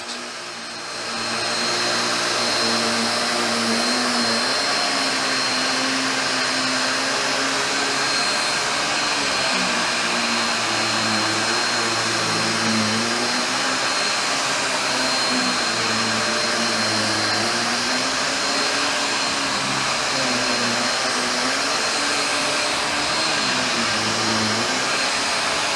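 Bissell Pet Hair Eraser Turbo Plus vacuum running on carpet, a loud steady motor whine and airflow hiss droning on continuously with slight wavering in pitch.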